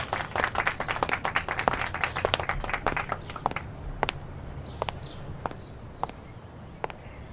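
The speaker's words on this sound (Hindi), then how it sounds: "अच्छा लगाओ तो तालियां।" A crowd applauds a strongman wrestler after a lift, a burst of dense clapping that thins into scattered individual claps, fairly close, with no talk.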